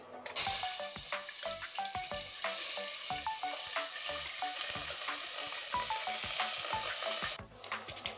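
Onion paste fries in hot oil for a Rupchanda fish tel jhal, making a loud, continuous close-up sizzle with rapid clicking from stirring before it stops abruptly near the end.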